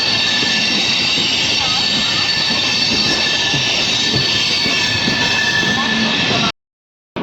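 A Matsyagandha Express train on Konkan Railway, hauled by a WAP-7 electric locomotive, runs through Mangaluru Junction without stopping, giving a loud, steady rumble of wheels and carriages with a high-pitched whine that runs on continuously before cutting off abruptly near the end.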